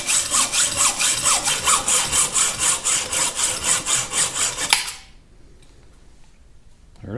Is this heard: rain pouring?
no